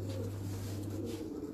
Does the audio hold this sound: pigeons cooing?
yes